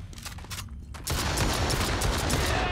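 Rapid bursts of gunfire from a zombie survival shooter game, fired at small zombies and skeletons, run into a dense, continuous barrage of shots, loud and close.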